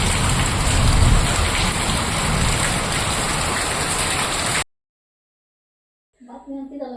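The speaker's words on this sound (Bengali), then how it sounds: "দেখো অঝরে বৃষ্টি হয়ে যাচ্ছে" Heavy rain pours down in a dense, loud, steady wash during a thunderstorm, then cuts off abruptly into silence before a voice begins speaking.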